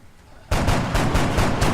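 Rapid burst of gunfire in XCOM, loud, close cracks firing in a fast rhythmic string of about seven shots after a brief quiet lead-in.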